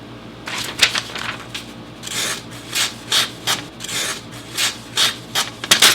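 A Kershaw knife blade is drawn repeatedly across a sharpener, giving a series of soft, close raspy strokes in an uneven rhythm with no talk.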